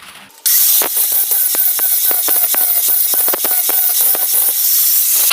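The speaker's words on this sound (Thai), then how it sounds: "นี่ดูการเจียเห็นไหม ดูความเนียน" A grinder works a tractor wheel gear, starting with a short quieter moment and then jumping to a loud, harsh grinding hiss cut by rapid rhythmic scraping pulses, heard up close with no voices.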